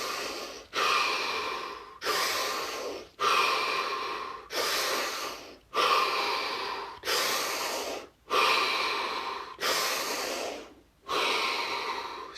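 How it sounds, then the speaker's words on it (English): Five deep, slow breaths, each a long loud inhale-exhale cycle of about two seconds separated by brief pauses, breathy and close with no talking. "Take 5 deep breaths, followed by 30 seconds of absolute stillness and silence."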